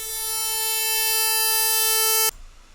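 White noise passed through a single-delay feedback comb filter, giving a loud, steady, buzzing pitched tone that holds for about two seconds and then cuts off abruptly, leaving faint noise.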